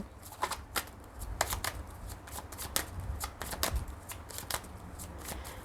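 Tarot cards being shuffled close up, a quiet run of rapid riffling and flicking snaps in irregular bursts over a low background hum.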